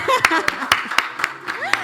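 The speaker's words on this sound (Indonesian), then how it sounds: "Beri tepuk tangan dong buat kakaknya." Rhythmic hand clapping from a small group at an Indonesian high school quiz competition, about eight evenly spaced claps in under two seconds, heard under a voice speaking.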